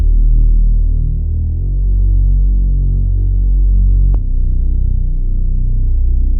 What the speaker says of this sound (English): the next thing we have here is the main bass, which is a reese that I made in Serum